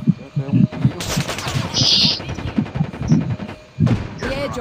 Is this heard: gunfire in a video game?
yes